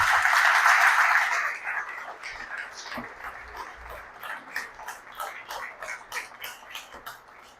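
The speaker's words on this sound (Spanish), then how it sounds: "Denle un aplauso al Señor esta mañana" After a loud opening swell, a church congregation settles into even, rhythmic clapping that ticks along steadily with moderate loudness.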